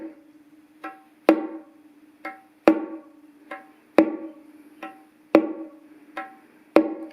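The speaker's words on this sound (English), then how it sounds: "we're going to also strike the smaller bongo with the thumb of our left hand." Bongos are struck in a steady repeating pattern, thumb strokes on the smaller drum alternating with sharper open slaps that ring briefly, each hit close and clear with quiet between strokes.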